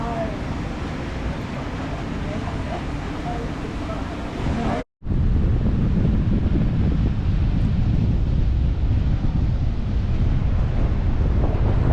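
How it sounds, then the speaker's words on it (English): Strong wind buffets the microphone in a loud, continuous roar at Cullen Point beach, briefly cutting out for a moment before resuming just as heavily. "I'm sorry about the wind, but this is Cullen Point"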